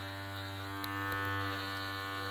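An AIRTOK pet grooming kit clipper hums quietly as it runs over a pet's coat, a steady electric buzz with faint clicks near the middle, no talking.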